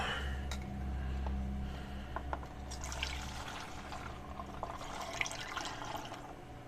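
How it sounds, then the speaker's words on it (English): Isopropyl alcohol poured back and forth between containers gives a soft, near splashing trickle with scattered drips, over a low steady hum. "Even pouring it back and forth does help mix the solution together."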